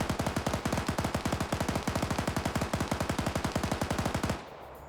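Rapid automatic gunfire in a Vietnam War PvP video game (SOG Prairie Fire) rattles in one loud, close, sustained burst of evenly spaced shots lasting over four seconds, then cuts off.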